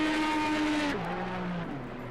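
IndyCar race cars circling the track, one engine whining high and then dropping sharply in pitch as it passes by, followed by fainter engine tones continuing behind.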